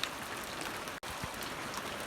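Light rain falls steadily on a January day, a soft, even hiss of drops that continues without a break and without anyone speaking.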